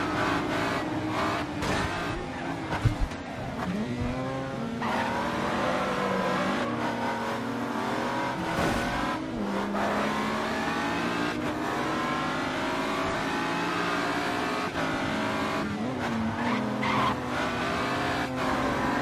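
A race car, such as a BMW M3 or RX-7, drives a Dubai street route in the racing game Grid 2: continuous engine roar rising and falling through gear changes, with revving and tire squeals on corners.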